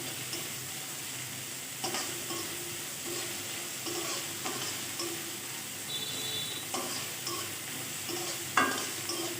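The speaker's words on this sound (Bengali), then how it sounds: "এখন পেঁয়াজটা ভেজে নেব" Onion fries in a pan for a tangra fish dish, giving a soft, steady sizzle with intermittent stirring scrapes and light clinks throughout.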